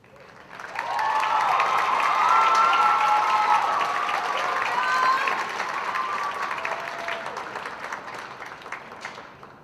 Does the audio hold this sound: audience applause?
yes